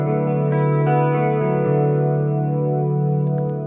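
Electric guitar chords played through a TC Electronic Corona Chorus pedal with a Dimension M TonePrint and the mix set low for a subtle effect, a sustained, shimmering tone ringing steadily and loudly with no talking.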